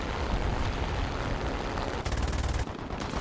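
Enemy gunfire striking a vehicle in the War Thunder tank game, a dense, loud barrage of impacts and shots over a constant rumble, with a burst of rapid rattling hits toward the end.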